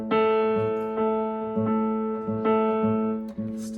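Two steady musical tones play at once, a 440 Hz A held together with a second note, repeated in short even bursts at close range with no voices.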